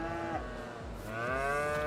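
Cows in the Farming Simulator 22 game moo in long, drawn-out calls, one after another, close and fairly loud with no talk over them.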